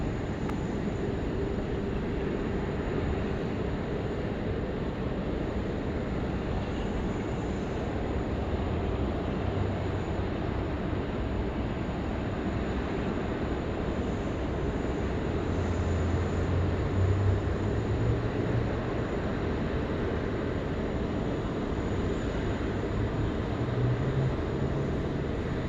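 An airliner rolling for takeoff on runway 16 right at Sydney Airport, a continuous low engine roar and broadband rumble heard from a distance, steady across the whole stretch with no talk.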